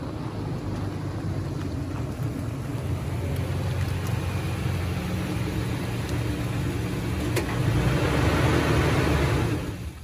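A Toyota Tacoma pickup truck engine rumbles steadily nearby as the vehicle drives in, growing slightly louder before cutting off near the end.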